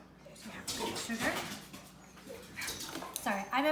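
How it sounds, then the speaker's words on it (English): Two dogs at a grandmother's house whimpering and giving short yips in the background of a kitchen, whiny rising cries mixed with a person talking. "with 2 dogs, so you might hear them in the background"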